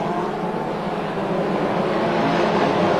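BriSCA F2 stock cars racing at Crewe in the 1993 World Championship Final, a steady dense engine roar throughout, distant and continuous with no break, crowd-level noise blending into the racing din.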